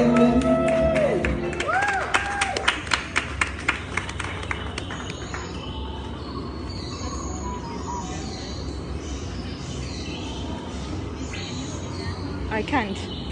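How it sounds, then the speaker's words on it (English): Crowd at a Miss Malaysia national costume show gives a burst of clapping and cheering that fades into a lower crowd murmur, with voices and music mixed in. "Let's give a big round of applause,"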